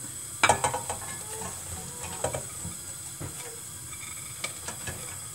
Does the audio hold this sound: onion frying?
yes